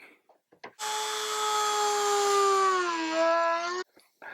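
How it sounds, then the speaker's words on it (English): A Dremel rotary tool cuts into a plastic box, a steady high-pitched whine that runs for about three seconds, dips in pitch near the end as it bites, then stops abruptly; close and loud. "It would mean I don't have to get out my Dremel. That's not melting. It's Dremel time."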